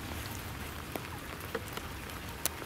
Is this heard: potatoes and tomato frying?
no